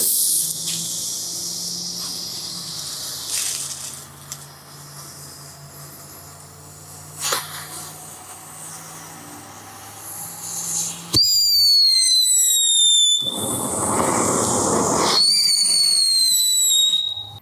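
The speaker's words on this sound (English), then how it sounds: "We got a very loud whistle, a super bright and very smoky fountain out of it." A hissing, crackling whistling firework fountain, very bright and smoky, gives way to a loud shrill rising whistle with bursts of roaring spray.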